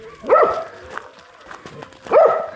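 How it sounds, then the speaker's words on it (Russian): A pitbull barks twice, close and loud, with a short yelp between the barks and some light background noise. "Уже жалуются люди, что ты гавкаешь."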